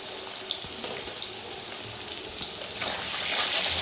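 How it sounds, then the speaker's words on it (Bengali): Potatoes with turmeric and salt sizzle and crackle steadily in hot oil, close and continuous, with a brief stirring scrape and the frying growing louder toward the end. "চলুন বন্ধুরা, আমরা আলুটাকে ভালো করে ভেজে নিই"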